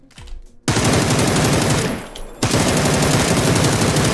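Dense, continuous automatic gunfire from the battle royale game PUBG, loud and close with rapid repeating shots, a brief dip near the middle before the burst resumes at full intensity.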